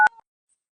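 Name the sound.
phone dialing tones of a call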